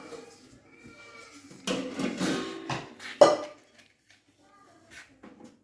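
Metal pot of milk being handled and set down on a stove: a cluster of clattering knocks, then one sharp, close clank before things go quiet, with a few faint taps after.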